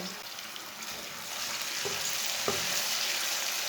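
Chopped tomato and green chili fry in a pot, a steady close sizzle that thickens slightly partway through, with a couple of soft spoon knocks against the pot.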